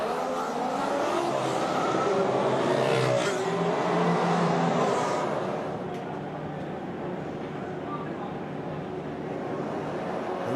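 Formula 1 cars accelerating off the start line at the Red Bull Ring in Austria, a dense, steady roar of engines heard at a distance with crowd-like wash, sustained throughout with a slight swell midway.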